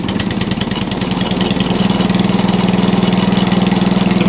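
Atco Balmoral reel mower engine running steadily after a drive pulley adjustment, a loud, even mechanical drone with a fast regular pulse and no chatter, continuous throughout.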